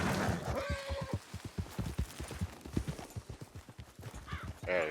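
Horse hooves clip-clop at a steady trot in the Red Dead Redemption 2 video game, with a whinny at the start and another near the end.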